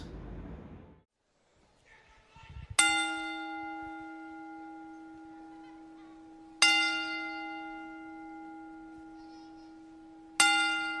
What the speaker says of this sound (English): Let's observe a moment of silence as we toll the bell 10 times.